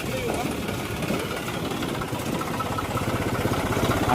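A tractor engine idles close by on a farm, a steady, throbbing mid-pitched chug that runs unbroken and grows slightly louder toward the end.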